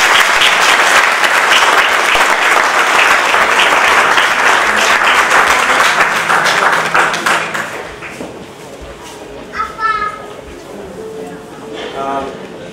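Audience applause at an autumn fashion collection launch, loud sustained clapping for about seven seconds that fades out, followed by faint chirping and murmurs in the room.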